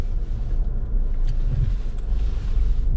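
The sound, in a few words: car driving home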